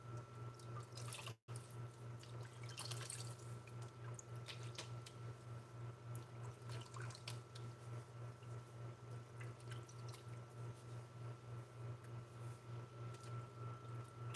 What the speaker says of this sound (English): Water on my face now.